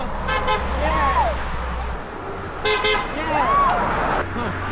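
Cars driving past honk in short bursts, a double toot early and a few more later, some close and loud, mixed with excited cheering voices and a low engine rumble from road traffic.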